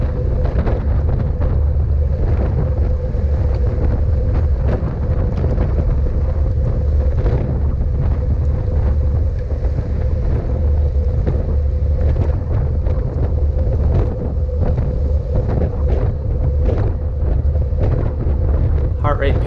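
Heavy wind buffets the microphone during an outdoor criterium bicycle race in Japan, a loud, constant low roar that never lets up across the whole stretch.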